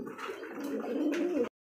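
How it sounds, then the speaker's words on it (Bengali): A male pigeon gives one soft, close, rolling coo lasting about a second and a half, then it stops abruptly. No talking is heard. "অ্যাক্টিভ দেখছেন কি নরের যে ডাক, তেমন পাগল একটা নর"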